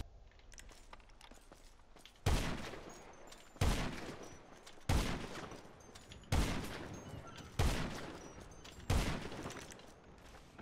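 Gunfire in the video game GTA during a tournament match: six sharp shots spaced roughly a second and a half apart, each with a short decaying tail, fairly faint overall.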